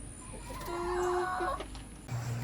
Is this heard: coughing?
no